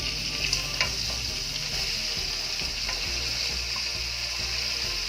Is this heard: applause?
no